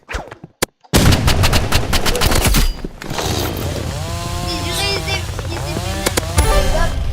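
In a Roblox shooter, a short silent gap gives way to a loud burst of rapid gunfire and a grenade blast, followed by continuing game effects and tonal chirps at steady loudness.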